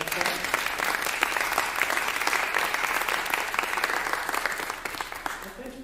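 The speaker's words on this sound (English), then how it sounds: "Give them a little round of applause." A room audience gives the panel a warm round of applause, steady dense clapping that runs nearly six seconds and fades slightly at the end.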